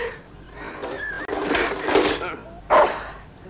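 A dog in a 1972 film scene whimpers and gives short yelps and a bark, close by, mixed with people talking.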